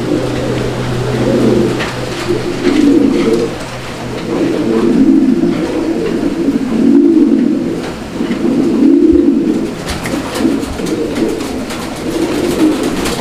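Pigeons of a fancy breeding pair in heat coo in repeated rolling phrases, a steady rhythmic series of low throaty calls that carries on throughout at close range with no talking.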